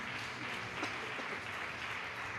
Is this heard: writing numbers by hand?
no